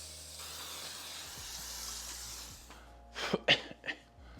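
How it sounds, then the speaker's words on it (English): Cooking spray hisses steadily into a Bundt mold being greased for monkey bread, a close continuous spray lasting about two and a half seconds, followed by a few short, sharp bursts. "We're gonna spray the inside of our Bundt mold here."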